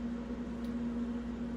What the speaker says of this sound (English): Excuse the fan noise